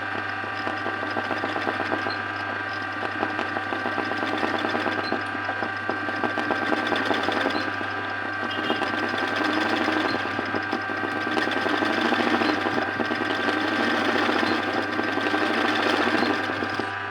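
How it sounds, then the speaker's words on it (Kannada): An embroidery sewing machine runs continuously up close as it stitches a chain stitch, producing a steady, even mechanical whir and rapid needle clatter that holds for the whole stretch. "ಇದು ಚೈನ್ ಸ್ಟಿಚ್ ಆಯಿತು"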